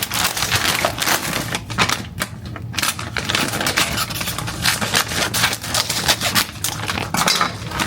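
Crinkly plastic food bag for Trader Joe's Chicken Chow Mein being cut and torn open up close, a dense run of crackling, rustling and snipping clicks that continues steadily throughout.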